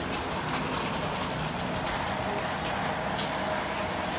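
Steady drizzling rain falls throughout during a rainy-day parcel delivery round, a constant soft hiss of light drops with faint scattered patters, even and unbroken, with no voices.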